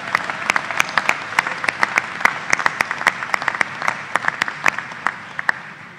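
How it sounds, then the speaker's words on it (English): Sparse, distinct hand claps from a commencement audience at a university business and nursing ceremony ring out irregularly, sharp and fairly close, thinning slightly toward the end. "let's give our master's students a round of applause"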